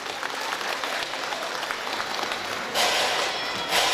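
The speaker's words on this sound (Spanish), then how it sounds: "Fuerte el aplauso" Audience applause for a bass player during a live show by a Mexican regional band, steady dense clapping throughout that swells louder near the end.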